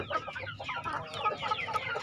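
Hens in a breeding group of a prized rooster line cluck continuously at close range, with overlapping calls from several birds and steady barnyard bustle, no talking.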